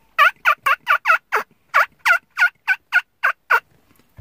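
Turkey gobbles imitated by a man blowing into his cupped hand outdoors, about a dozen short, sharp, throaty yelps in a quick uneven series, close and loud.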